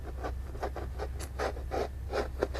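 Fabric is being cut close up, with a quick series of rhythmic rasping snips, about eight strokes in a row over a low hum.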